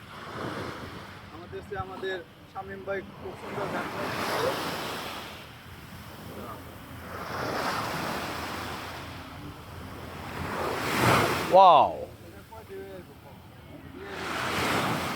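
Ocean waves surge and wash in slow, swelling rolls on the shore at East Coast Park, Singapore, with a voice speaking briefly over the surf.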